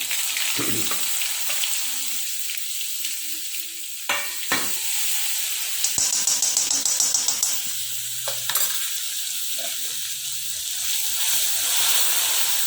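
Spice paste for drumstick kadhi sizzles in hot oil on a low flame, a continuous hiss broken by scraping stirs and a few sharp utensil clinks against the pan.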